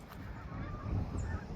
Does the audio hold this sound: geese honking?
yes